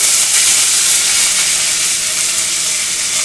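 Cumin seeds and curry leaves sizzle loudly in hot oil after mustard seeds have popped, a dense, steady crackling hiss that carries on without pause.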